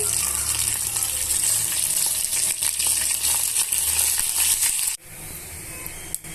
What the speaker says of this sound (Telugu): పోపు బాగా వేగిపోయిందండి